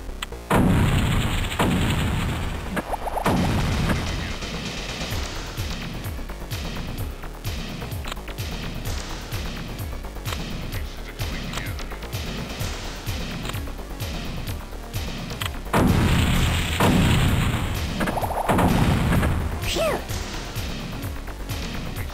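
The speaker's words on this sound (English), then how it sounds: "Blow up both remote bombs." Remote bombs going off in the 1995 Windows puzzle game The Incredible Machine 3, heard as loud booming crashes and thuds recurring over a continuous backing of game music.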